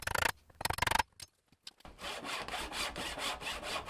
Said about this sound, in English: I used a handsaw to cut a few pieces of stock into smaller chunks